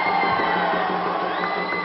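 Crowd noise at a Muay Thai fight between Yodmongkol CP Freshmart and Japanese fighter Koki Eto, with a steady roar of cheering and shouting that stays loud throughout and is not broken by individual claps.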